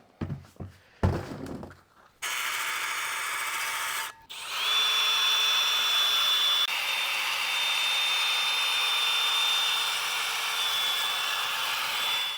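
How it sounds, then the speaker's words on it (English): A rotor hone spun by a power drill resurfaces a BMW brake rotor, following a few knocks and thuds with a loud sustained whirring grind that briefly stops, then runs on steadily up close. "with the rotor hone, we're able to break the glaze and get a nice uniform finish"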